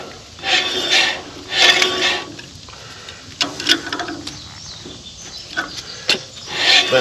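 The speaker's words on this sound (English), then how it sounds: "just trying to get all the grease that's in between the rollers and the bearing races cleared out" Grease being wiped and scrubbed from the rollers and races of a trailer wheel bearing on a dump trailer, close rasping rubbing strokes in uneven bursts with short pauses.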